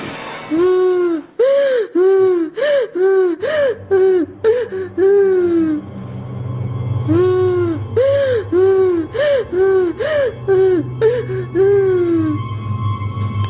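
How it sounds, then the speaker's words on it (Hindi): An animated horror story scene: a woman sobs and wails in repeated gasping, rising-and-falling cries, loud and close, with a low rumbling background joining midway. "कुछ ही पलों के बाद वहां पर उन्हें किसी औरत की रोने की आवाजें आने लगी।"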